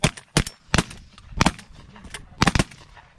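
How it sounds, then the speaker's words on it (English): Several sharp shotgun blasts fired in quick succession at a duck and goose hunt, loud and close, spaced unevenly across a few seconds. "I shot once and killed it."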